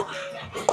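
Dogs give a brief yelp or whine that ends in a sharp high squeak, a short sound heard alone during a kettlebell workout.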